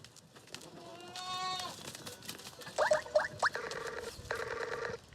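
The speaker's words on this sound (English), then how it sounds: "These goats are probably infected," Goats on a farm beside mine tailings near Johannesburg bleat a few times in quick succession, moderately close over outdoor ambience and a faint distant voice.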